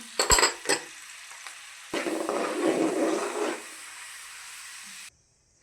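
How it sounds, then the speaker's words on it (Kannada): Peanuts and roasted gram are fried together in a pan, starting with a couple of sharp clanks, then a burst of sizzling and stirring that fades before cutting off. "ಕಡಲೆ ಬೀಜ ಫ್ರೈ ಮಾಡ್ಕೊಳ್ಳೋಣ ಹುರುಗಡ್ಲೆ ಅದರ ಜೊತೆಗೆ ಹಾಕೊಳ್ಳೋಣ"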